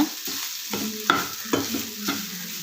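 Grated coconut being fried and stirred in a pan for rava laddu, a few distinct close scraping strokes of a spoon in an uneven rhythm over a light sizzle, with no voices.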